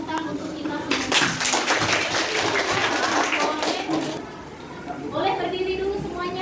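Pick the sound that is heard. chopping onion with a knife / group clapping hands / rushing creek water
group clapping hands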